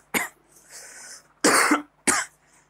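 Three sharp, close coughs from a man teaching a class, each a loud burst with short quiet gaps between them and no speech.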